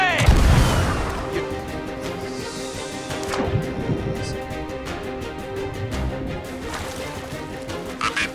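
Cannon fire in the pirate ship game Sea of Thieves, a heavy boom up front followed by lingering rumble, crashes and scattered impacts, with a few more thuds later amid ongoing game noise.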